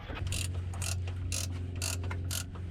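A ratchet clicks rapidly while driving the lower control arm bracket bolts back into a BMW E46 325xi during a Powerflex bushing install, in several close bursts of metallic clicking over a low steady hum.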